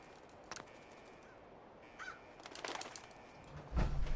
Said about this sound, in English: what's that? What a bird.